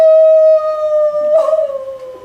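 A courtroom defendant imitates a wolf howl with his voice, a loud sustained tone that holds steady, then wavers and slowly fades over about two seconds, with no other sounds.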